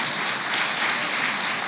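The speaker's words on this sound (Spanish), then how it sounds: "Dale un aplauso al Señor." Steady, dense applause from a church congregation fills the space evenly, a continuous wash of clapping with no voices standing out.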